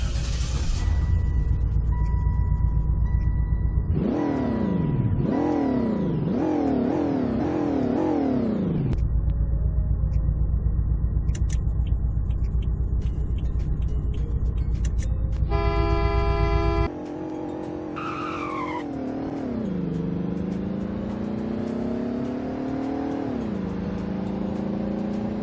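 A sedan from the Roblox game Greenville revs repeatedly in rising, falling sweeps, gives a short steady horn honk, then accelerates in a long climbing engine tone, all loud, close and synthetic.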